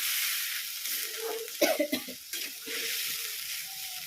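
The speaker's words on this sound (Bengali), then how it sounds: "এবার আমি জল দিয়ে দেবো, কষা হয়ে গেছে।" Water goes into a pan of fried fish curry masala, with a bright steady hiss throughout, a brief burst of bubbling and spluttering midway, then the sizzle settles back in close by.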